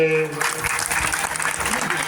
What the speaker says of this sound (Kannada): ಪ್ರೀತಿಯ ಸನ್ಮಾನ ಪ್ರೀತಿಯ ಚಪ್ಪಾಳೆ